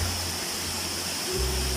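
Steady rushing of water from Pa Wai, a large red-rock waterfall in Thailand, a constant broadband roar heard briefly with a low hum running underneath.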